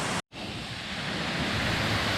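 A steady, broadband rush of a waterfall flowing down into Lake Cumberland, loud and continuous after a brief dropout near the start, with no talking.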